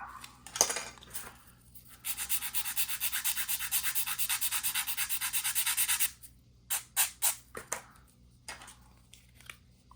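Rapid back-and-forth sanding strokes with 100 grit sandpaper on the hood of an AMT 1970 Dodge Challenger RT plastic model kit, a steady four-second burst of close rubbing followed by a few short separate strokes.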